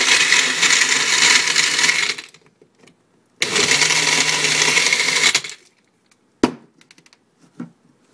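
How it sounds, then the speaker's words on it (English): A blender whirs through a popsicle drink in two loud bursts of about two seconds each, separated by a short pause, followed by a few light clunks as the lid and jar are handled. "Now we put the lid on. Then we blend it."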